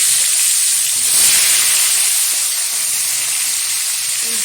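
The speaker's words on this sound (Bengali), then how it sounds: "এখন আস্তে আস্তে করে তেলের মধ্যে ছেড়ে ভেজে নেব।" Katla fish head, salted, sliding into hot oil with turmeric and frying, giving a steady, loud broadband hiss and sizzle throughout with a slight swell near the start.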